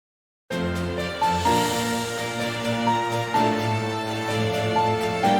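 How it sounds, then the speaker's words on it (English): A full orchestral video game soundtrack plays loud and continuous, with trombones, trumpets, solo cello and violins layered into a dense, sustained texture and a melodic lead on top, entering sharply after a short silence. "So I have like trombones, trumpets going, solo cello, violins, just everything."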